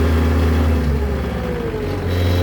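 A 2000 New Holland LX665 skid steer's engine runs loud and close throughout, with a steady throttle-driven hum and a slight rise in pitch partway through.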